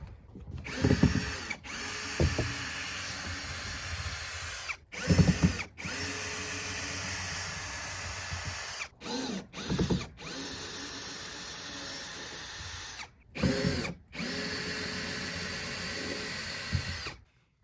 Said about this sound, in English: let's keep taking these other screws out that are in here and see what happens.